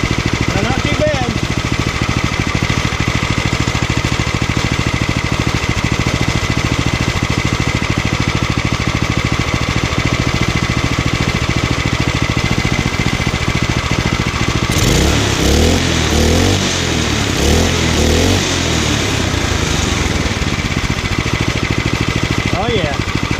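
A Predator 212 small single-cylinder engine running steadily and then revving up, loud and close, with people talking over it.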